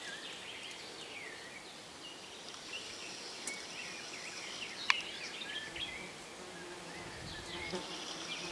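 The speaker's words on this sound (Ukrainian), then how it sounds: "показати, як тут працюють не тільки джмелі, а і медоносні бджоли" Bumblebees and honeybees buzz around a flowering linden tree, a faint steady insect hum close by, with occasional bird chirps and one sharp click against the quiet outdoor background.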